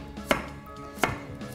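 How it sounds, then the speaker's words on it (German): A knife slices carrots on a cutting board with three crisp, evenly spaced chops, close and distinct, with no talking. "nachdem ich sie in Scheiben geschnitten habe."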